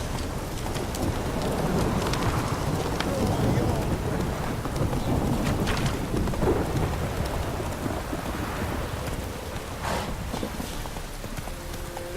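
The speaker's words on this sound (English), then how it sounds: "This downpour's a bastard" A heavy downpour in The Witcher 3 rushes steadily as a dense hiss, with rumbling low thunder and horse hooves clip-clopping beneath; faint voices come and go.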